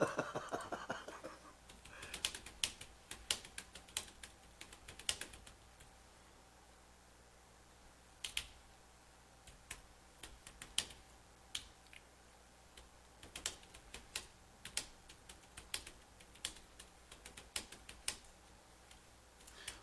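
Typing on a computer keyboard, with bursts of quick, crisp key clicks and irregular pauses between them, up close with no talking.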